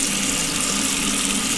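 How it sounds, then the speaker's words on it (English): Tap water runs steadily from a faucet into a hotel bathroom sink as hands are washed, a continuous close rushing hiss with no pauses and no talking. "I'm gonna wash my hands."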